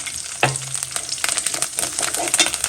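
Steady oily sizzle of spices and chili powder frying in oil in a pan over low heat, continuous crackle with a brief low hum near the start and some stirring clatter.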